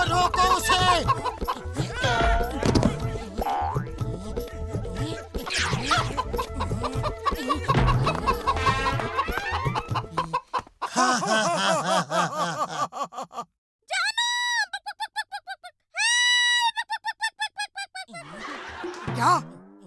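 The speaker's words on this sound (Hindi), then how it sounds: "क्या मोटू, तुम एक मुर्गी भी नहीं पकड़ सकते?" Cartoon chicken clucking in rapid, squawky bursts near the end, following a stretch of busy animated chase sound with voices and laughter.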